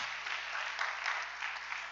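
A church congregation breaks into dense, continuous applause, with many hands clapping together in a full, reverberant wash that holds steady with slight surges.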